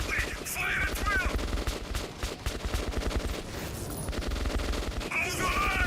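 Rapid, continuous gunfire in the video game Metro 2033 Redux, dense overlapping shots and bursts loud throughout, with a voice briefly heard among the shooting.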